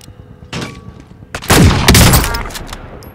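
A burst of loud gunfire rips through a Call of Duty Cold War Warzone match, a couple of quick cracks followed by a heavy sustained volley lasting about a second before fading.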